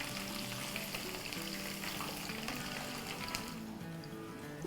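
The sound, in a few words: bottle gourd (lauki) kebabs frying in a pan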